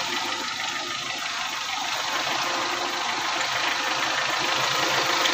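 A car engine runs steadily after a DIY repair, a constant mid-pitched idle with a slight knocking texture, close and even throughout with no talk.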